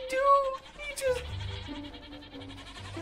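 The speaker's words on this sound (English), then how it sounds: "How did he get this many goats?" Goats bleat in the Minecraft video game, several short wavering cries in a row, with a voice talking over them.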